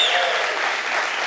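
A church congregation applauding, a dense wash of many hands clapping together, loud and close, brief and steady throughout.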